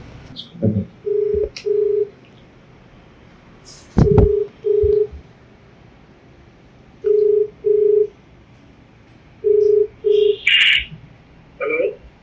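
Dialing a call on a telephone: paired dial-tone beeps repeat in short groups of two and three, close and clear, separated by quiet gaps with a few clicks and a brief higher chirp near the end, no talk.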